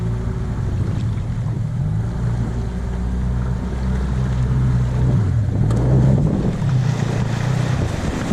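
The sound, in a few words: motorboat engine running toward a beach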